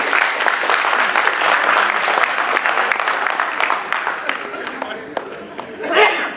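Audience applause at a memorial function, loud sustained clapping from a seated crowd mixed with some laughter and chatter, fading slightly toward the end with a brief swell just before it stops.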